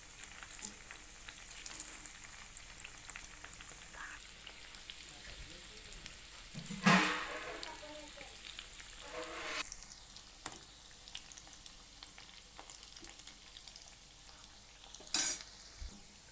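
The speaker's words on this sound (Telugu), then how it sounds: "ఆ విధంగా గోల్డెన్ బ్రౌన్ వచ్చే వరకు వేపుకుని తీసుకోవాలి" Idli kurkure fry in a pan toward golden brown, giving a soft, steady low sizzle with a few louder scrapes and stirs, while a voice speaks at times.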